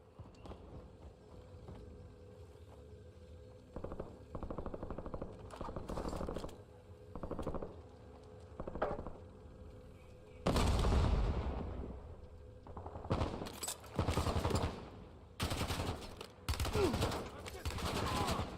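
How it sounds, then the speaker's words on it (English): Bursts of gunfire from Call of Duty: Warzone come in irregular clusters of rapid shots, some near and loud, others shorter and quieter, separated by brief lulls of low background game noise. "Stop shooting at me."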